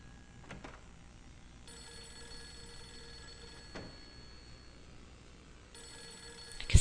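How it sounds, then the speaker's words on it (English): A telephone rings in the horror video game Fatal Frame 3, a faint electronic trilling bell in two quiet bursts over a low ambient hum, with soft clicks and no talking. "Miku, the phone's ringing"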